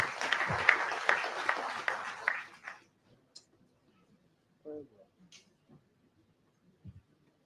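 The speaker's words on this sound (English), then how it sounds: "A round of applause, please." Applause at a national labour conference, a brief burst of crowd clapping that fades out after about three seconds, followed by near silence with a few scattered small sounds.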